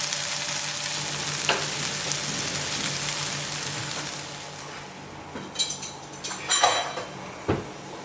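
Spice paste for Bogor noodle soup sizzles steadily in a pot, a continuous frying hiss joined late by a few sharp stirring clinks and scrapes, close and without talk.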